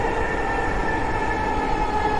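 A metro rail train travels on a rainy day, its steady loud rumble and hum carrying continuous tonal whine from the motors, with no pause or voices.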